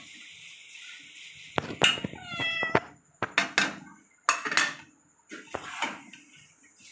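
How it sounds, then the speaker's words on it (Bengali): A cat meows repeatedly, several clear, close cries in uneven bursts, with light clattering of dishes and utensils between them. "उसका स्वभाव भी ऐसा है, म्याऊ म्याऊ म्याऊ म्याऊ करता है"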